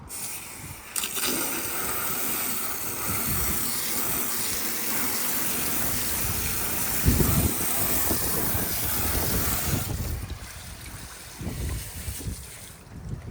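A boat hull gets its final water rinse after wet sanding, with a loud, continuous gush of spraying water that runs for most of the clip and eases briefly near the end.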